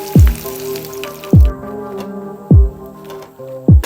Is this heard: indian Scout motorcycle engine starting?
no